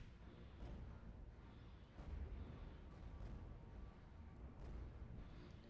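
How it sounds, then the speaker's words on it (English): A torpedo barrage in the space strategy game Stellaris during ship-versus-ship combat, heard as quiet, muffled rumbling booms and bursts repeating over a steady low roar. "Comes the next torpedo barrage."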